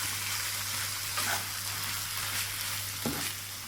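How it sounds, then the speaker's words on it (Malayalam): Chicken pieces added to softened onions in a pan for Christmas butter chicken, giving a steady close sizzle and frying hiss with a light stir or scrape near the end, and no voices. "സവാള പാടി വന്നിട്ടുണ്ട് അതിലേക്ക് ചിക്കൻ ഇട്ട് കൊടുക്കുക"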